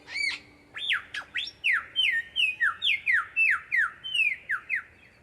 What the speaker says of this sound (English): It gets noisy in the bush when the lyrebird does his spring mating dance.